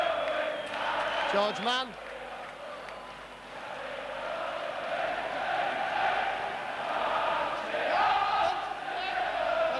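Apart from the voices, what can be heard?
rugby crowd cheering at stadium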